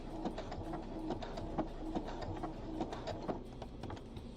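A sewing machine stitching a cosplay bodysuit sleeve through extra layers at a seam, a steady close mechanical whir with rapid regular ticking and no pauses.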